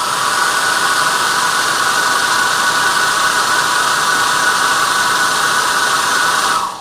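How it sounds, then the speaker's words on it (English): A hairdryer blows steadily on freshly inked crosshatched pen drawing paper, a loud continuous whooshing whine held close for several seconds before cutting off at the end, with no talk. "I'm going to hit that with a hairdryer really quickly"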